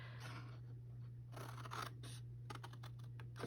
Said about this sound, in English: I'm going to try to do a better job of cutting it this time